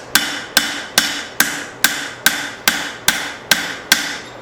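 Forging a blacksmith chopper knife, a hammer strikes hot steel to bevel the blade in eleven sharp, evenly spaced ringing blows, loud and close with brief decays between hits.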